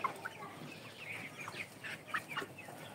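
Coloured broiler chickens cluck softly at a distance, with scattered short calls and a faint background murmur.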